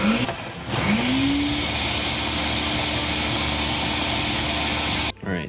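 Blender whirring as it blends a Pokemon card into smoothie mix, a loud steady motor whine that spins up, holds constant for several seconds and cuts off abruptly near the end.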